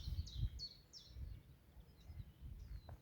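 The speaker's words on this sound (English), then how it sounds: "and bird song from arriving warblers" Faint song from arriving spring warblers, including chiffchaff and blackcap, gives a few short, thin chirps early on and scattered fainter notes later, over low rustling and outdoor background noise at a carr woodland.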